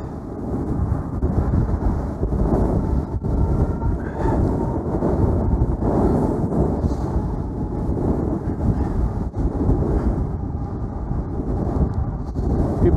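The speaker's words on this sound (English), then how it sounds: "The wind is blowing." Steady, loud wind buffets the microphone during a ride on a RadRunner Plus e-bike, a continuous low roar with gusty swells that never lets up.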